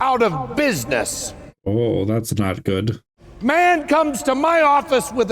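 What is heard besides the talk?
No distinct noise like a dog, phone or traffic.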